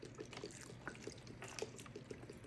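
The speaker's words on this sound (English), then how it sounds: "Going with a little bit of chicken broth going in." Chicken broth pours into a crockpot for potato soup, a soft continuous trickle and splash of liquid with small drips, steady and fairly quiet throughout.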